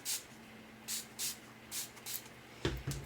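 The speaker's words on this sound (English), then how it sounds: "So we're going to spray again with e6000." E6000 adhesive sprayed onto a glitter tumbler in short hissing bursts, six or so spaced across a few seconds, close and fairly quiet, ending with a soft shuffle of handling.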